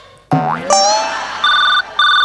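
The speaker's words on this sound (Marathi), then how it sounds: "शांत बसा फोन आलाय." A phone rings in a comedy sketch, heard as repeated electronic ringtone bursts in a steady on-off pattern, loud and close, after a springy cartoon boing effect.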